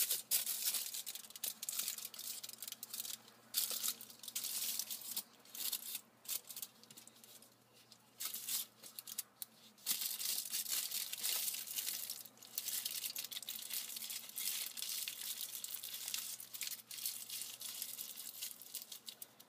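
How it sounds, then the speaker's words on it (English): Aluminium foil being folded around a blonde fringe during hair dyeing, giving steady crinkling and crumpling rustles with brief tearing bursts, close up and continuous with no talk. "now I'm just going to take another piece of alfoil and fold all of my fringe into the alfoil"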